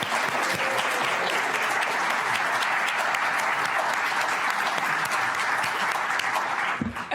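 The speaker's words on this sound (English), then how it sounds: "I just want to give her another round of applause" A law school audience gives a loud, dense round of clapping that holds steady for several seconds before breaking off near the end.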